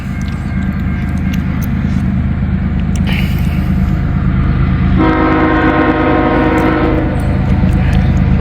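A loud train rolls by nearby with a constant heavy rumble, and its horn sounds in a sustained blast partway through.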